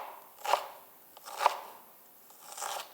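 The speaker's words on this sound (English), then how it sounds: "Just using the tip of my knife, going right through my onion, cut perpendicular to that, trying to make nice small dices." A kitchen knife dices an onion on a cutting board, giving three crisp, separate chops about a second apart, close and quiet with no talking.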